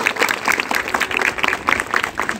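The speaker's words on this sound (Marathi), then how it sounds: "आपल्या चांगल्या भविष्यासाठी टाळ्या वाजवण्यासाठी." An audience at a Rotary youth leadership event claps, a close, lively burst of quick uneven hand claps that keeps going for a couple of seconds.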